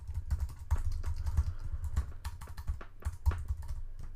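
Rapid, steady typing on a computer keyboard produces dense, close clicks and key thumps in an unbroken run, fairly quiet but clear, with no talking.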